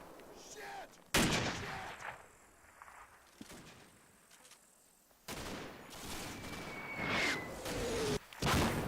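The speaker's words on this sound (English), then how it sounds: "Just as a second danger close artillery strike comes in" Danger close artillery strike in the Combat Mission war game, with heavy booming blasts landing in bursts, several loud impacts and a rushing incoming whoosh over a rumbling battlefield backdrop.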